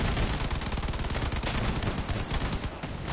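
Shotgun fire in the vehicle combat game Crossout, a dense rapid run of loud gun blasts packed together for a few seconds amid battle noise.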